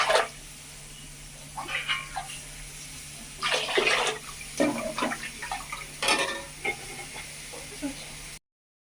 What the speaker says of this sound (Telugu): 2 గ్లాసులు రైస్ తీసుకున్నాను కాబట్టి 4 గ్లాసులు వాటర్ అయితే వేస్తున్నాను